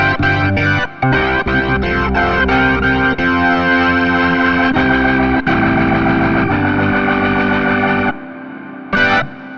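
A VB3 II 2023 Edition virtual organ keyboard plays chords and runs soaked in heavy reverb with distortion and chorus, loud and sustained, notes washing into one another before a brief pause and a final swell.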